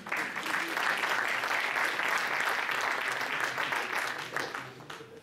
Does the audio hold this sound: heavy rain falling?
no